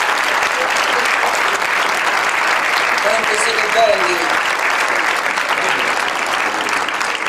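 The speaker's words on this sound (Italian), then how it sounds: "Lo facciamo sentire questo applauso?" A theatre audience at a live concert at Teatro Traiano in Civitavecchia applauds loudly and steadily throughout, while someone speaks briefly over the clapping.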